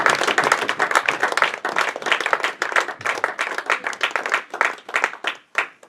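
Congregation in a church clapping hands together, a loud, dense, continuous round of applause with rapid claps close by, fading slightly at the very end.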